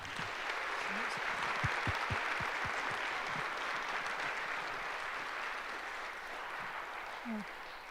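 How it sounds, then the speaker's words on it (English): A college convocation audience claps for a lion dance club presentation, a broad, sustained round of applause with a few low thumps and some voices mixed in early, gradually easing off. "Round of applause."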